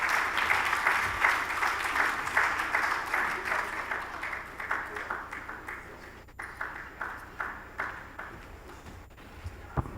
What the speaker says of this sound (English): Please, he deserves a very resounding round of applause.